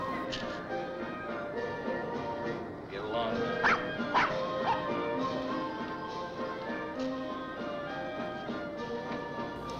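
A dog barks and yips a few times in a scene from the film Rear Window, with a man and his dog outside, the barks mixed under a person talking and a music score.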